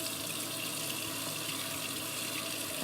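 Cold tap water runs steadily while hair is rinsed, a close, continuous splashing hiss with no pauses or voices.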